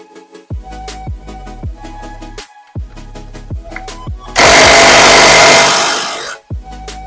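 An old 16 mm bolt being removed from a Honda CRX, rapid rhythmic clacks of a hand ratchet, then a loud sustained burst of a power tool for about two seconds before the clicking resumes.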